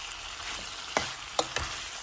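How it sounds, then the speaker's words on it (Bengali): Curry with ginger and cumin paste being stirred and fried in a pan, a soft steady sizzle with three brief scraping knocks of the stirring spoon, close and fairly quiet. "একটু নাড়াচাড়া করে আমি জল দিয়ে দেবো।"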